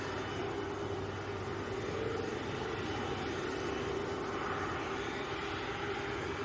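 A Virgin aircraft departs Manchester Airport as a steady, moderately distant jet drone, an even rumble that holds level throughout.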